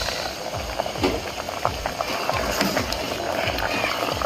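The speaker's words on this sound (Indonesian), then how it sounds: "Kelapa mudanya kita rebus dengan air kelapa muda." Young coconut simmering in its own coconut water, a steady bubbling boil with soft popping and liquid churn running throughout.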